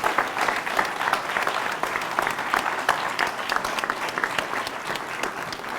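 An audience at a book signing applauds author Carl Ware, a full, sustained round of clapping with sharp individual claps standing out from the steady crowd wash, fairly close and without talk.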